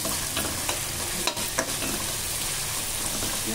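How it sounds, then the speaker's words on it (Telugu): Curry with ginger garlic paste is stirred and fried in a pan, a continuous sizzle with a few sharper scraping strokes of the spoon, close and steady, with no talk. "మొత్తం కలిసేలా కలుపుకొని ఇంకో 2 మినిట్స్ ఉడికించుకోవాలి."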